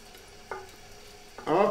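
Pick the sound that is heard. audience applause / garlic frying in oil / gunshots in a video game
garlic frying in oil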